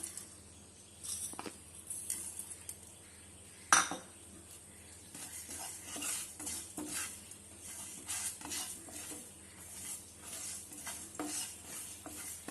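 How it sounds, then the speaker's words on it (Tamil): Cumin, mustard and fenugreek seeds sizzle in a hot dry pan for a Tamil lemon pickle, with quiet crackling and occasional scrapes and stirring clinks, one sharper knock near the start. "அடுப்பில் பேனை வச்சு பேன் காஞ்சிருச்சு. இப்போ நான் இந்த சீரகம், கடுகு,"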